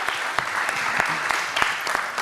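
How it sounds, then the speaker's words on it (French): Steady applause from a conference audience for participants of a startup innovation round table, dense, continuous clapping with a few sharper claps standing out. "On les applaudit."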